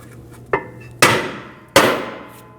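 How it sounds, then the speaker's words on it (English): A hammer taps a stuck rear brake rotor on a 2001-2009 Volvo S60, with one light knock followed by two loud ringing metallic strikes spaced under a second apart, each decaying slowly. "If it's stuck on, we're just going to use a hammer. Give it a tap."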